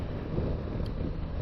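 Steady low rumbling wind buffeting a microphone, a continuous blustery roar with no voices.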